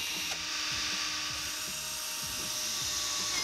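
A power drill drives screws to temporarily hold a Delta curved wall panel in place, giving a steady, close whirring drone with rhythmic ratcheting pulses throughout and no voices.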